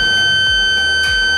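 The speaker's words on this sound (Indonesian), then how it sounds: "kalau kita tarik lagi lebih jauh itu akan membunyikan alarm" Biosafety cabinet sounding its alarm as the sash is pulled up too far: a steady, loud high-pitched electronic tone held throughout, with a faint fan hum beneath and no voices.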